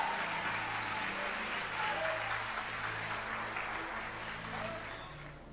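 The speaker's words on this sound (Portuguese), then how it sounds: "Os que podem, tomem o seu assento aplaudindo a Jesus" A church congregation claps together in sustained applause, a dense, steady patter that swells slightly then tapers toward the end, with voices faintly mixed in.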